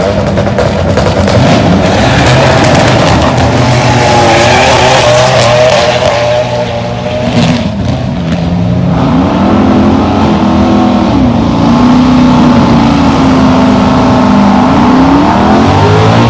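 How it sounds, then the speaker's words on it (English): A Dodge Durango SRT accelerates hard down a drag strip, its loud engine roar rising steadily through the gears with brief tire squeal, continuous and close with no talk. "it looks like we have a Durango SRT."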